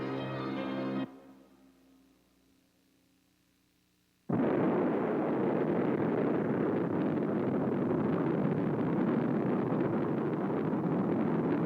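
An atomic bomb test detonation during wartime Los Alamos work: after a brief loud burst and a quiet lull, a sudden massive blast erupts into a sustained, heavy roaring rumble that continues at full loudness to the end.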